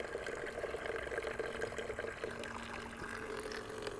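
A small electric pump in a cargo trailer kitchen sends water splashing into a bucket, a steady low gurgling pour with a faint motor whine underneath, close and continuous.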